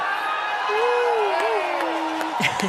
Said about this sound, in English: You can hear the cheers.